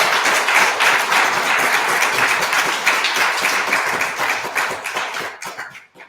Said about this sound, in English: we get to just give him a big round of applause